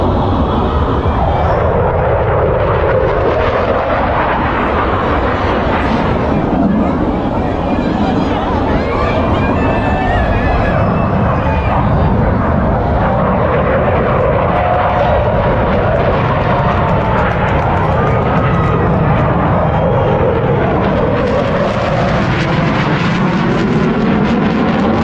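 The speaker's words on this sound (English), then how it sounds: "These US Navy Blue Angels jets showing off over a crowded beach." US Navy Blue Angels jets pass low over a crowded beach, a loud, sustained engine roar that swells and fades in sweeping waves across the whole stretch, with crowd noise beneath.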